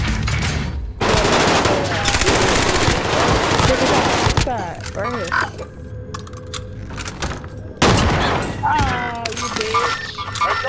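Bursts of rapid gunfire from a shooter video game, sniper and automatic shots cracking in dense loud volleys with short pauses, while players talk over the action.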